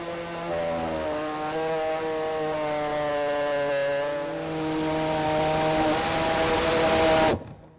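A power tool cuts a 1.5-inch square hole in a 2011 Mini Cooper Countryman's plastic bumper, a loud whining buzz that rises in pitch before cutting off abruptly.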